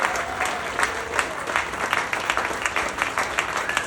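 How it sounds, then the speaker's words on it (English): A standing audience at a roast gives sustained applause, dense clapping from many people filling the room at a steady level. "give him a big round of applause"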